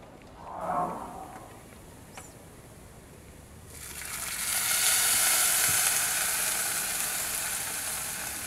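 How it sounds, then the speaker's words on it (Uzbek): Boiling water poured into a pot of frying chicken and mushrooms, a loud steady sizzle and rush of steam that swells up partway through and holds, following a quieter stretch with a brief faint clatter. "Qovurib bo'lgandan keyin 400 ml qaynagan suv olib, qozonchamizga solamiz"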